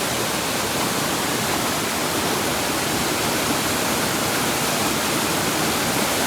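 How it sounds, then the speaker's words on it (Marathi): A waterfall behind a village heard from right at its base, a dense, loud, unbroken roar of crashing water that stays steady throughout with nothing else rising above it. "देख सकते हो वाटरफॉल के एकदम नीचे आ चुके हैं"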